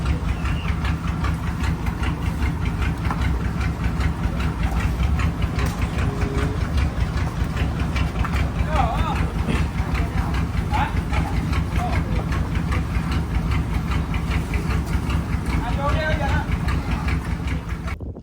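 A fishing boat engine runs steadily on a squid-jigging trip, a continuous low droning chug throughout, close and fairly loud, with faint voices now and then.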